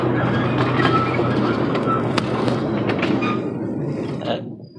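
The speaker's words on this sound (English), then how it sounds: "I really have been driving this silly train for 27 years." A tourist train rolling along its track in the redwoods, a steady close rumble with scattered clacks and knocks that fades toward the end.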